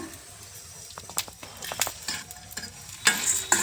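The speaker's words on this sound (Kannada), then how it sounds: "ಹುರಿಯೋದಕ್ಕೆ ಒಂದು ಎರಡು ಸ್ಪೂನ್ ಎಣ್ಣೆ ಹಾಕ್ಕೊಂಬಿಡೋಣ" Oil frying in a pan for brinjal vangi bath gives a soft, faint sizzle, broken by scattered scrapes and clicks from stirring and a few louder bursts near the end.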